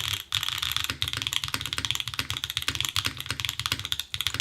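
Rapid, continuous typing on a Float65 mechanical keyboard with no keyboard mat, crisp clacky keystrokes in quick uneven rhythm, close and loud with a brief pause near the start.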